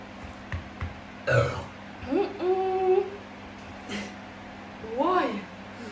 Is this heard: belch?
yes